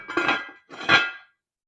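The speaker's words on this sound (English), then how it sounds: "Let me grab a spoon and give that a stir." A spoon scraping and clinking against a pot of boiling strawberry jam sweetened with honey, two distinct strokes in quick succession, close and fairly loud, then quiet.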